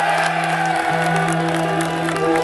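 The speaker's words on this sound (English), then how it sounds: "Let's give a round of applause for Henny." Luncheon crowd applauding a college football scholar-athlete, dense clapping and cheers with a sustained low hum, loud and close throughout.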